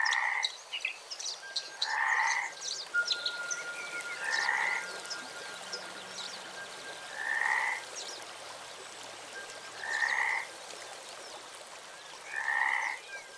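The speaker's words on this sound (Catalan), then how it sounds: "tòtils i granotes" Frogs and midwife toads croak beside a mountain stream, short paired calls repeating about every two to three seconds, fairly close over a steady watery hiss, with a thin continuous tone running beneath.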